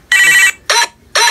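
A phone ringing up close, loud bright electronic rings repeating in a steady pattern, three bursts with short gaps between.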